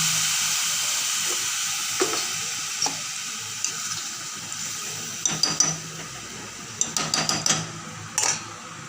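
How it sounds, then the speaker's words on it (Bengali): Water is poured onto rice that has been fried in ghee, and it meets the hot pan with a loud, sustained hiss and sizzle. A few sharp clinks and knocks follow toward the end. "বেশ কিছুটা কিন্তু জল দিচ্ছি"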